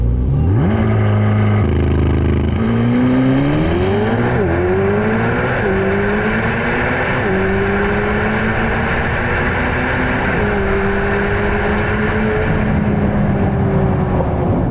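A 1064-horsepower C8 Corvette ZR1 drag car accelerating hard off the line on a no-prep surface, its loud engine climbing through repeated gear changes, each shift dropping the pitch before it rises again, near and continuous.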